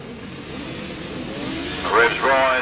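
Grasstrack racing sidecars rev on the start line, engines droning low then surging into louder, rising revs near the end, under an announcer's talk.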